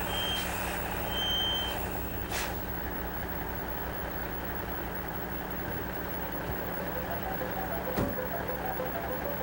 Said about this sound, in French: Puis, on recule lentement et prudemment.